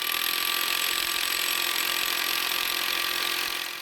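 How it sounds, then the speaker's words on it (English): A hammer drill grinds steadily and loudly into stone for a farmhouse stone wall, one continuous harsh drilling noise close by. "drill with the hammer drill"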